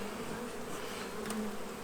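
Honeybees buzz steadily at an opened hive holding eight or nine frames, a dense continuous drone close by with no voices.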